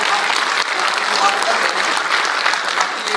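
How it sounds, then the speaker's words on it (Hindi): Loud, dense audience applause fills a hall at a Poultry Federation of India gathering, sustained and steady from start to finish with a broad crowd wash. "तो इस पे आप लोगों ने थोड़ा जोरदार ताली बजानी चाहिए।"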